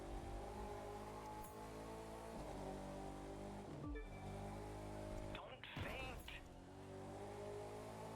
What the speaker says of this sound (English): The freaking Defender, drifting that thing is not the easiest.